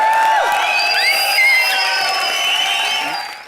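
A TV comedy show studio audience whistles, cheers and claps, with bright rising whistles and whoops over a dense crowd roar that stays loud and then fades at the end.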